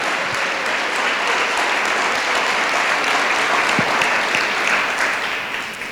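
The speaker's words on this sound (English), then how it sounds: "let's give these students a resounding round of applause" An audience in a school gathering at Lockhart K-8 applauds students in a long, full round of clapping. The applause is loud and steady throughout, thins slightly at the end, and has no voices over it.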